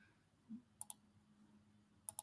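Sharp clicks of computer keyboard keys in a quiet room, heard as two quick pairs of light taps separated by a pause of about a second, with a faint low hum underneath.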